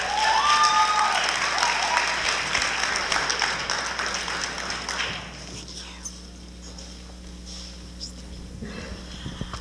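A high school audience at a National Honor Society induction ceremony gives a dense round of clapping that fills the hall for about five seconds and then drops away, leaving quieter room noise and faint movement.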